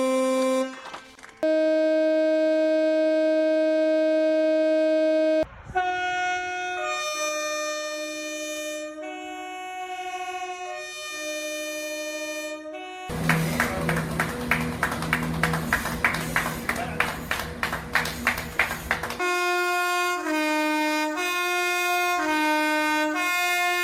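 Train horns honking for key workers on Scotland's railway at a Thursday 8 p.m. tribute, long sustained blasts in several pitches, some overlapping, broken by a loud stretch of dense rumbling noise with rhythmic pulses before the horns return.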